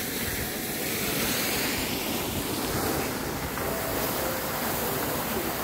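Water running in a fountain at Peterhof, a steady broadband rush and splash heard close and fairly loud throughout, with faint wind noise and no talk.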